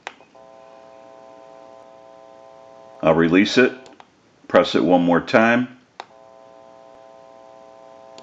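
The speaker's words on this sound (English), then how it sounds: "You may hear a little bit of an electrical hum." Steady low electrical hum from a test amplifier hooked to an Automatic Electric 902 rotary wall telephone, faint and continuous before and after someone speaks briefly in the middle.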